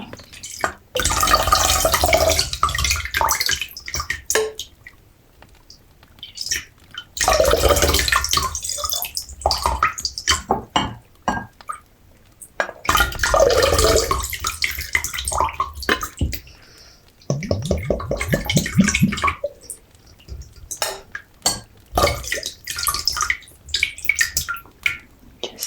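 Water poured into a vessel at an apothecary, a steady gushing stream in several long bursts separated by pauses, close and full, with drips and small splashes between pours and no talk.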